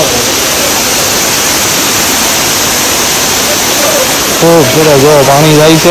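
Water rushing through a stream in the Dang forest, a loud, steady broadband roar up close; near the end a voice speaks over it.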